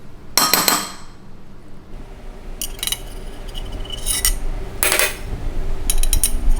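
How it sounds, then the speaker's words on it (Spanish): A metal spoon skims foam off clarified butter (ghee) heating in a pot, giving several sharp clinks and scrapes against the pot in spaced bursts over a low background simmer, with no talk. "Básicamente con una cuchara agarramos así y sacamos la espuma."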